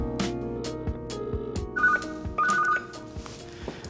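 A telephone rings in a restaurant during a busy service, a bright electronic ring tone sounding in two short repeated bursts over ongoing kitchen and dining-room clatter and background music.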